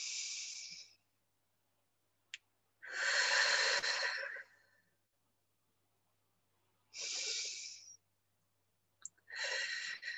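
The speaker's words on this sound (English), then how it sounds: "And do some lovely deep breathing at the same time." Deep breathing during an Indian head massage: four slow, loud, airy breaths close to the microphone, inhales and exhales separated by stretches of near silence, with a couple of faint clicks between them.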